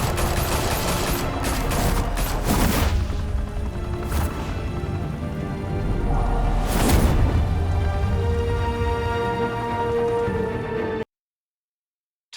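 Gunfire in Batman: The Telltale Series video game rattles in sustained bursts with a few heavier blasts, loud and dense throughout before cutting abruptly to silence.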